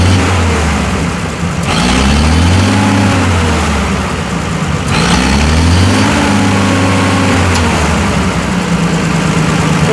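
A Massey Harris 102 tractor engine runs on its first start in ten years, a loud, close, continuous rumble with repeated throttle rises and falls between steadier running, showing good throttle response after a lean mixture adjustment.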